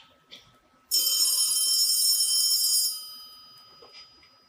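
A telephone rings at night with a loud, bright electric bell peal lasting about two seconds, then fading in the room, with a couple of faint knocks before and after.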